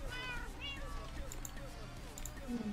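A cat meows in the Minecraft video game, a few short, bright in-game mews early on, mixed with other game sounds and what seems like faint talk.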